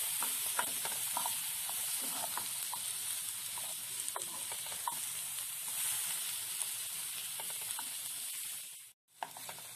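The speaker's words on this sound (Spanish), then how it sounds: "Vamos a revolver." Tomato frying in a pan with chile and being stirred for Mexican-style beef steaks, a steady close sizzle with scraping stirs and crackles, briefly dropping out near the end.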